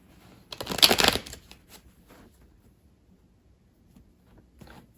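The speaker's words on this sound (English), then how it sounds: "Shuffling over here real quick." A quick riffle of playing cards being shuffled, close and crisp, followed by quieter handling and a soft second flutter near the end.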